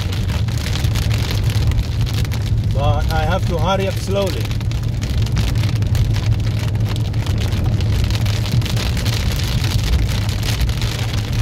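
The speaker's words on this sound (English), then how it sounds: "I've decided to drive through the storm" Steady heavy rain from a storm drums on a car roof while driving, with a low engine hum underneath and someone talking briefly in the middle.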